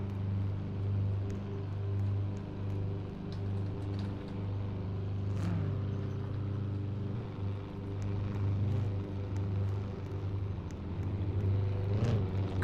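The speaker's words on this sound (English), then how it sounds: "Be cool if everyone could turn their engines off real quickly." Several midget race car engines idle together in a racing video game, a steady low droning rumble that holds throughout with faint, brief clicks layered on top and no talking.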